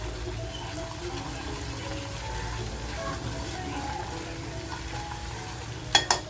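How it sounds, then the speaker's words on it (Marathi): Masala frying in oil in a pan for a fish thali, a soft, steady close sizzle with faint stirring, ending in two sharp knocks. "मसाला बघा ही आपला छान फ्राय झालाय"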